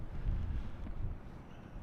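Gusty wind buffets the microphone on a pier at Duluth, Minnesota, on Lake Superior in 20 to 25 mph gusts and subfreezing cold, a steady low rumbling roar that swells and eases without a break.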